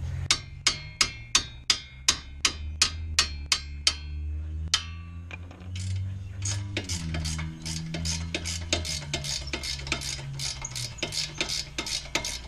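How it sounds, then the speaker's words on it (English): A hammer repeatedly strikes a cheap Pittsburgh wrench set on the front lower control arm of a 2004 Honda Pilot, producing a quick run of sharp, evenly spaced metallic blows with ringing, then a busier stretch of irregular clanks. "A little hammer action"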